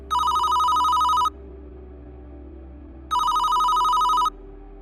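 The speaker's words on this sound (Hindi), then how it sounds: "अचानक उसके डेस्क पर रखा लैंडलाइन फोन बज उठा।" An old-style landline telephone bell trills in two long bursts separated by a pause, loud and close over a low steady hum, late at night in an office.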